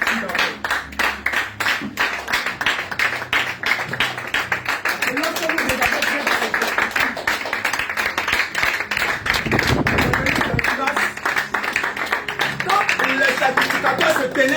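A church congregation at a prayer cell in Yopougon claps rhythmically to acclaim the Lord, dense steady hand claps filling the space with a brief low rumble partway through.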